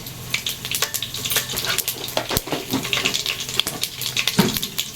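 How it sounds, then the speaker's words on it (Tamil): Mustard seeds frying in hot oil in a pan for home-style fried rice, making a steady, close crackle with many sharp popping ticks throughout. "கடுகு கொஞ்சம் போட்டுக்கலாம்."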